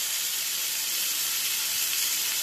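Smashburger patties sizzle steadily in a very hot pan, a dense, bright hiss holding at even loudness throughout with no talk over it.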